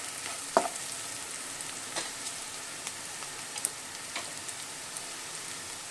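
Chopped onion fries in hot oil in a pan for Andhra-style sorrel leaves prawn curry, giving a steady crackling sizzle with scattered sharp clicks and taps of a stirring spoon.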